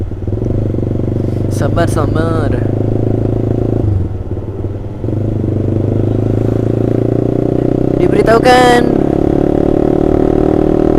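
A Honda CBR150R motorcycle with an Austin Racing aftermarket exhaust drones loud and close at a steady throb, briefly dipping mid-stretch, while someone talks and a voice over a loudspeaker announces in bursts.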